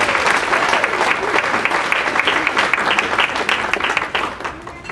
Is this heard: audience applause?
yes